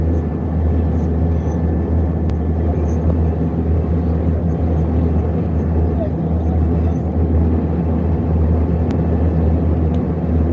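An airliner taxiing back toward the runway at Lagos airport, heard from inside the cabin as a loud steady engine rumble with a low drone throughout.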